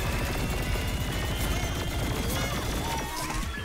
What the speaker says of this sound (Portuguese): era o meu robô dando tiro